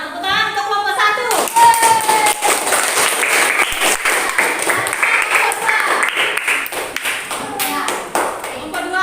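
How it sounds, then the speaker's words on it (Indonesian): Classroom applause for group 1, with many hands clapping close and loud in a steady, lively burst that lasts the whole stretch, while voices call out over it at the start and end. "tepuk tangan untuk kelompok 1"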